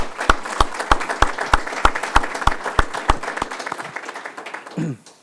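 An audience at a school board meeting applauds, with a few sharp, regular claps standing out above a softer crowd clapping that tapers off before a brief voice at the end.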